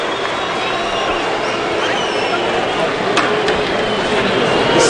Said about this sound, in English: Tactical first round draws boos from the crowd